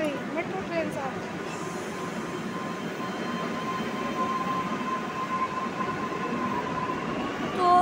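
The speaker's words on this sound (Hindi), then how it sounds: "मेट्रो ट्रेन आ रही है" A Lucknow metro train arrives at an underground station with a continuous, loud rumbling roar and a faint high whine, while someone talks over it.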